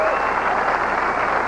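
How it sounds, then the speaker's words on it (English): Live crowd of about a thousand people cheering and applauding at a 1987 bowling tournament, a continuous loud roar of clapping and voices. "I want you to hear a live crowd cheer."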